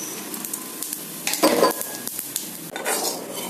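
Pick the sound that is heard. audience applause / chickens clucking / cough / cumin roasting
cumin roasting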